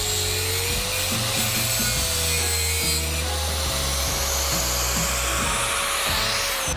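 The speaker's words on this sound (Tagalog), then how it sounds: "Puputulin ko ulit siya." A metal front fender bracket on a Yamaha RXT135 motorcycle being cut through during restoration, a steady grinding, rasping cut running loud and close for the whole stretch with a sustained tone over it and no talk.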